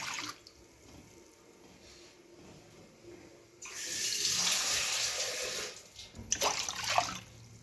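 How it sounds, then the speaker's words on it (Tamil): Two cups of water pour in a steady rushing stream into a cooking pan while making red poha kesari, starting after a quiet moment, then breaking into splashy bursts near the end. "இதுக்கு வந்து ரெண்டு கப் தண்ணி விடுறேன்"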